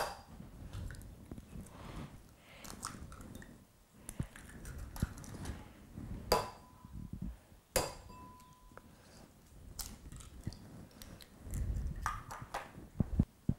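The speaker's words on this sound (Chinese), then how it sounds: "咁我哋而家就嚟打蛋" A whisk or chopsticks beat eggs in a bowl in a home kitchen: quiet, irregular clinks and taps against the bowl's side, with sharp louder knocks, over a low background hum.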